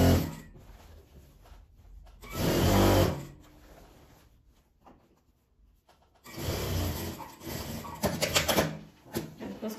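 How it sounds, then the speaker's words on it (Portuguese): A sewing machine runs in two bursts, stitching the seam around a reversible fabric tote bag; steady mechanical whirring, close and fairly loud, with a quiet pause between runs. "Vou passar a costura dando a volta nela toda."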